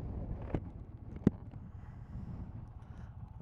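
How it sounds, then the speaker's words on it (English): Strong, gusty wind on the Blue Ridge Parkway buffets the microphone in low rumbling waves, with a couple of sharp knocks breaking through the steady roar. "we're getting 50 mile an hour gusts of wind and it's just too much"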